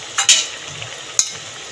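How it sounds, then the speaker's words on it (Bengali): A fish-head and gathi kochu taro curry made with hilsa head is stirred in a pan, giving two quick scraping strokes and then one more over a soft, low sizzle. "একটু নাড়িয়ে চাড়িয়ে দিয়ে ব্যাস একটুখানি সময়"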